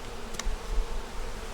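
Honey bees buzzing at a hive, a steady close insect hum with a brief louder buzz as one flies near.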